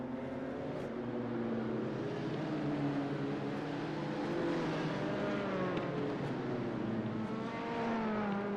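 Dallara P217 prototype race car engines idling and droning together on the grid at Sebring in a racing video game, a steady layered hum of several engines with faint revs, moderately loud and continuous, no talking.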